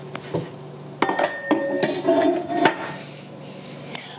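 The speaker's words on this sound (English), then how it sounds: "Helps to have a cover on the pan." Metal lid set onto a pan of heating mushrooms, giving a few sharp clanks and clinks followed by a brief rattle and settling, close and moderately loud over a quiet kitchen background.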